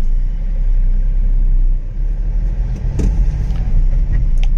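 A Hyundai Xcent S diesel base-model car from the 2012-18 generation, with about 65,000 km on it, drives along with a steady, loud, close engine rumble and road noise, plus a brief clatter near the end. No one speaks.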